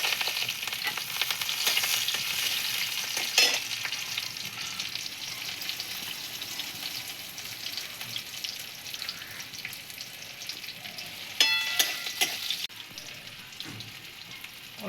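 Boiled potatoes sizzle and fry in a pan with cumin, a steady broadband crackle throughout with occasional louder spatters and stirring clinks, close and alone without talk.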